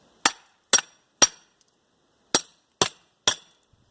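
Sharp hammer strikes knocking rivets out of a heavy copper armature from a 100 lb scrap motor, six loud metallic blows in two groups of three with a pause between, no talk.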